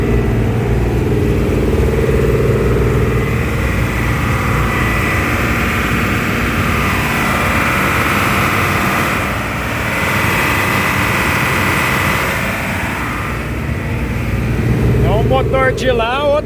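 Loud, steady rumble of a tractor-trailer truck's two heavy engines, one on each side, with a deep low drone throughout and a brief rattling burst near the end.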